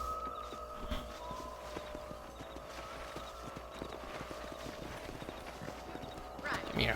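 Steady clip-clop of horse hooves in the Red Dead Redemption video game, a continuous rhythmic walk under a low ambient bed and distant voices, with a brief louder rustle near the end.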